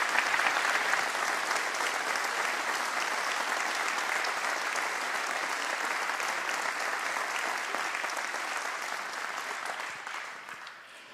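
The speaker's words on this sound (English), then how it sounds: "Give them another round of applause." Loud, dense applause from a large audience at a school band festival, honoring clinicians and students, a steady roar of clapping that holds for several seconds and then tapers off near the end.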